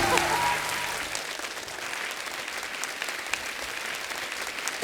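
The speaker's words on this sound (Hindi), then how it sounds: "जोरदार तालियां हो जाए मंदाकिनी जी के लिए, संगीता जी के लिए और वर्षा जी के लिए" Studio audience at The Kapil Sharma Show claps heartily, applause swelling at the start then settling into a steady roomy patter, with faint voices beneath it.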